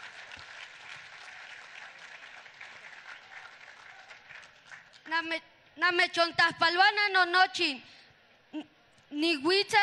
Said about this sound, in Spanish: Fuerte el aplauso, que se escuche fuerte el aplauso